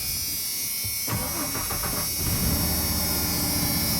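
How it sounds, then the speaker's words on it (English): A 1994 Ford F-150 pickup engine cranks over and catches at about one second, then settles into a steady, loud running rumble close by. "There's a truck running."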